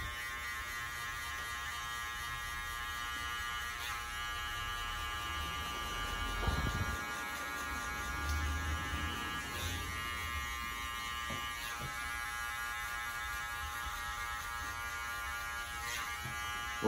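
Electric hair clippers buzz steadily through a barbershop haircut, a constant close mechanical hum with slight shifts in tone as the blades move through the hair, and no talking.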